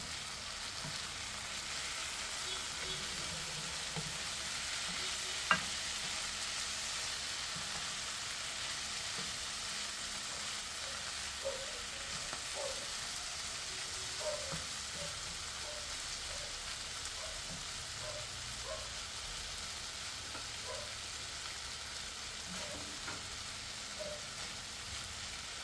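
Broccoli stir-frying with oyster sauce in a pan, a steady, faint sizzle with scattered small clinks and scrapes of stirring, alone and continuous throughout.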